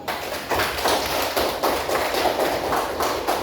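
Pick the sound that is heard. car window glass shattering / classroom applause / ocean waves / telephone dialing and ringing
classroom applause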